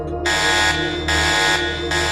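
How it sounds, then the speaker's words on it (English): A building alarm blares in loud, pulsing bursts, a steady harmonic buzzer tone swelling and easing in roughly half-second cycles over a constant low drone, with no voices. "alarms started blaring throughout the building"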